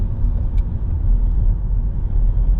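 Manual-transmission car decelerating in third gear, a steady low engine and road rumble filling the cabin without letup, fairly loud and close, with no voices over it.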